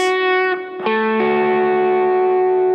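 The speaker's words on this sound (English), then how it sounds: "Now sixths are my favorite double stops, and I use them all the time." An electric guitar with distortion and reverb plays double stops in sixths, a few ringing two-note shapes that shift once or twice and then sustain, loud and close with no voice.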